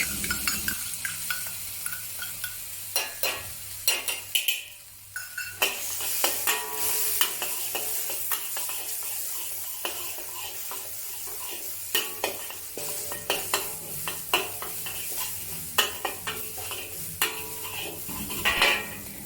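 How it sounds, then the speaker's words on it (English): Chopped chili and garlic sautéing in oil in a wok for Thai pad kra pao, a soft sizzle broken by frequent sharp metallic scrapes and clinks of a utensil stirring against the pan. "Add some more oil to the wok and saute the chopped chili and garlic until aromatic."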